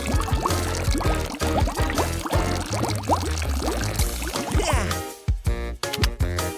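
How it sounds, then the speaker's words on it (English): A homemade liquid concoction mixed with water beads is poured out in a steady splashing stream, heard close and loud beneath bright, busy music for most of the clip. "Now let's pour out our special concoction."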